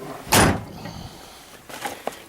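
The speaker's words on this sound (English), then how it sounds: "when you close the door" A truck cab door swings shut with a single solid thump up close, followed by a few faint rattles and a small click as it settles.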